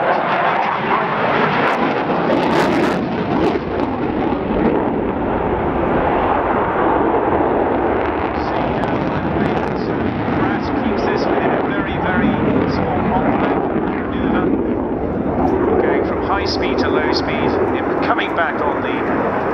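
A Belgian Air Component F-16 fighter jet performs at the RNAS Yeovilton Air Day 2014 air show, its engine a loud, continuous, tearing roar that fills the whole stretch while an announcer's voice commentates over it.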